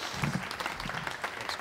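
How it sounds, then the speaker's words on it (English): Audience applause at a live science talk, a short burst of dense clapping from a crowd, heard close and fairly steady. "Give him a round of applause."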